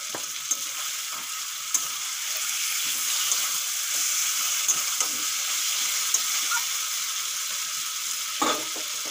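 Slit green chillies go into a pan of papaya chicken curry, and a steady close sizzle and hiss carries on throughout with small clicks and scrapes from stirring.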